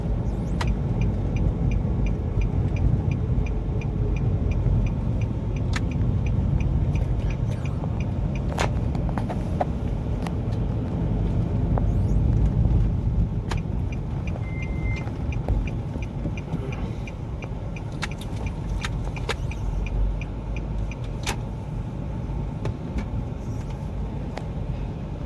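Buses and cars heading from Malang pass along a road during the Lebaran travel rush, a continuous, fairly loud rumble of traffic with engine swells and occasional faint horn-like tones, and no voices.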